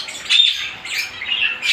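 Pet birds such as Gouldian finches and parrots at a sale, sharp squawks and chirps in short bursts, close and fairly loud, with no talk.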